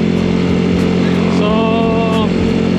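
Yamaha Mio i 160cc scooter engine fitted with an eraser ECU and MTRT torsion control, revving steadily up close with a rising then falling whine, while someone talks over it.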